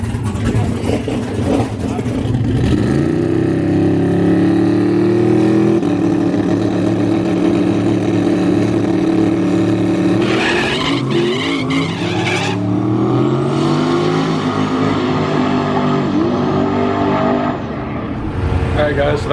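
A big-turbo stock-block LS drag car makes a small-tire test pass, its engine roaring loudly and revving as the tires spin and squeal right off the launch, with the pitch rising and shifting throughout.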